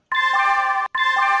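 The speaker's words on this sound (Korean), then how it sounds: "기본적으로 증권사에서 제공하는 소리가 이렇게 나옵니다." A stock trading app's default alert tone from the brokerage, two bright electronic chime bursts in quick succession, clean and close with no talk.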